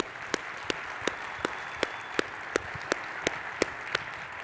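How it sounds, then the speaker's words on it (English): A thin scattering of applause rises for the speakers at a data analytics event, a dozen or so distinct claps landing in an uneven rhythm over a steady hiss of room noise, sounding like a small audience clapping sparsely. "How about a quick round of applause for all of our speakers today?"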